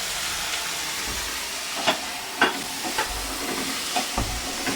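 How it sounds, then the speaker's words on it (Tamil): Steady frying hiss from a pan on a medium flame with occasional stirring scrapes and soft pops, close by and continuous, with no talking. "மீடியம் ஃப்ளேமில் நல்லா நம்ம ஃப்ரை பண்ணிக்கணும்"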